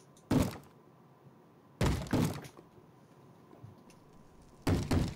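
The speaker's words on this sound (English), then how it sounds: "Stop banging, zombie." A zombie pounds on a wooden door in a modded Minecraft village, giving three heavy thumps spaced seconds apart, the middle one a quick double knock, each loud and close against a quiet background.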